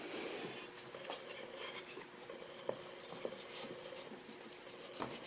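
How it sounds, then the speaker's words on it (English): Cloth wiping a car side mirror surface with denatured alcohol, a soft continuous rubbing hiss with a few faint light taps, close and quiet. "Here I'm just wiping down that surface with the denatured alcohol that I talked about"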